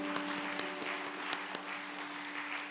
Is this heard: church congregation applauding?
yes